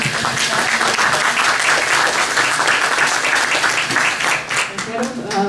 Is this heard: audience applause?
yes